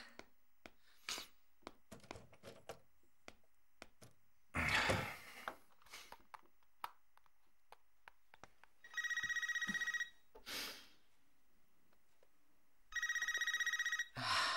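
A mobile phone rings in two sustained electronic bursts a few seconds apart, set within a quiet room full of scattered small knocks and clicks.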